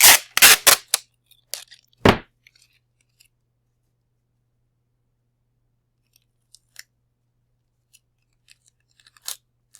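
Scissors snip through a piece of material for a straw rocket launcher, a quick cluster of several crisp, close cuts at the start and one more a moment later, then near silence with faint small rustles.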